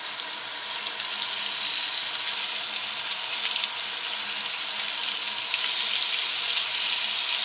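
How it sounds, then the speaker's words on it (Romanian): Boneless chicken thighs sizzle loudly and steadily on a grill pan, a dense continuous hiss and crackle with no voices. "Și le perpelim aici puțin să prindă acest grilaj frumos."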